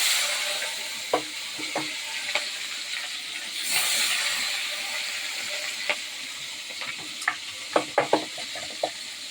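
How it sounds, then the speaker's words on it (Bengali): Two pieces of katla fish, rubbed with salt and turmeric, sizzle in hot oil with a steady hiss, scattered with sharp pops and clinks that grow more frequent toward the end. "তেলটা হয়ে গেছে, মাছটা এবার দিয়ে দিচ্ছি"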